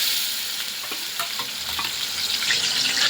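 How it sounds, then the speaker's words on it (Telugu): Mutton keema frying in a pan, a steady dense sizzle with stirring scrapes throughout, loud and close with no voices. "ఇది ఇందులో వేసుకుని మనము ఫ్రై చేసుకుందాం. ఫస్ట్ కీమాని ఫ్రై చేసుకుందాం."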